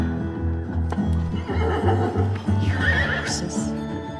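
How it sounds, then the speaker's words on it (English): Horses neigh and whinny loudly in repeated bursts, with hooves clip-clopping underneath, close and clear. "Horses."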